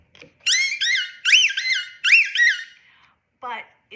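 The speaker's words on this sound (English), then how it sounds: "has a squeaker inside" A squeaker inside a dog toy covered in tennis ball material is squeezed repeatedly, giving loud, high, bending squeaks. They come in uneven pairs with short gaps between them, followed by one weaker squeak near the end.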